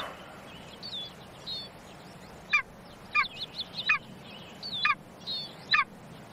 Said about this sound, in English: Among the peaks, the golden eagle rules.